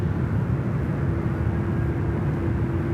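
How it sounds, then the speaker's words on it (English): A Virgin Boeing 737 bound for Hobart sits on runway 34 right at Sydney Airport, its engines giving a steady, loud low roar with a constant whine, unbroken for the whole span with no voices over it. "Velocity 1528, our Hobart bound 737,"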